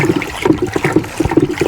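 A stick stirs liquid lawn fertilizer in a container, giving close, steady sloshing and swishing with rhythmic liquid churning and no voices.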